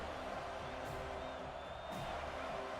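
Home crowd in an NCAA college football video game swells with a steady roar of cheering on a third-down defensive stand, a dense wash of sound beneath faint commentary.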